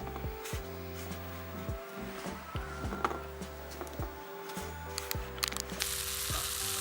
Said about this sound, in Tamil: ரோல் வந்து நல்லா ப்ரௌன் கலரில் வர வரைக்கும் நல்லா ஆயிலில் வந்து டீப் ஃப்ரை பண்ணி எடுத்துக்கோங்க